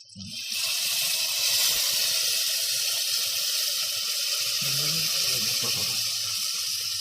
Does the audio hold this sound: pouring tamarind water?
yes